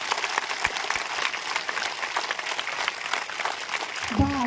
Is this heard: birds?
no